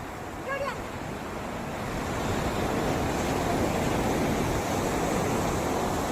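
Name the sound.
waves and wind at the beach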